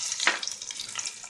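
Chopped onions hit hot oil already holding whole garam masala for masoor dal pulao, giving a sharp sizzling burst that settles into a steady, close crackling fry with no talk.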